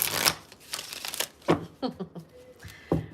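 Playing cards are shuffled in several quick riffling bursts separated by short pauses, close and crisp, with no talking.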